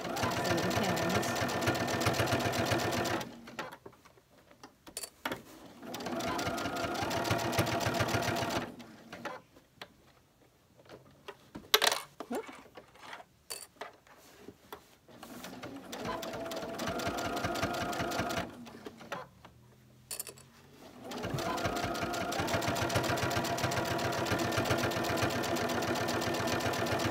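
A sewing machine stitches a baby burp cloth, its rapid mechanical whir running in long bursts separated by quiet pauses, with a few handling clicks and light noises between stretches of sewing.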